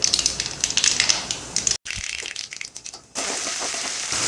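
Mustard seeds spluttering in hot oil in a pan, a dense, loud stream of crackling pops and sizzle with one brief break, continuing unbroken.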